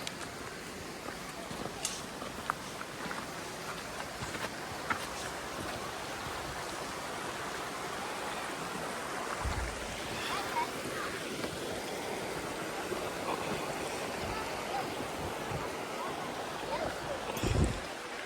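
A cold, fresh mountain stream in the Ourika Valley at Setti Fadma in the High Atlas near Marrakesh, rushing steadily as a continuous moderate wash with a few brief knocks and splashes.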